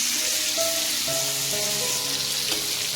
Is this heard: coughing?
no